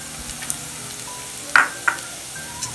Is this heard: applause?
no